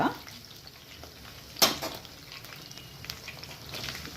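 Green chillies fry quietly in oil in a pan for a broad bean fry, a faint steady sizzle with one sharp clatter partway through.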